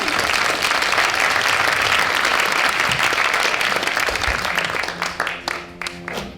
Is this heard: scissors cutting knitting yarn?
no